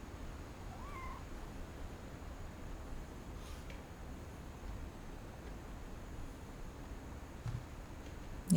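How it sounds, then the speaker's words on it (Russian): A single faint meow in the video game What Remains of Edith Finch rises near the start against a quiet background hiss, followed by low ambient noise; no one speaks. "Я слышала мяу."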